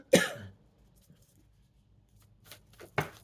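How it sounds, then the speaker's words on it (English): A person coughs sharply and close up, followed by a quiet pause and then a few softer throat-clearing coughs. "Pardon me for coughing."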